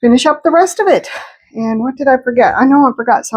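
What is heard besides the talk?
None of the usual background noises is heard.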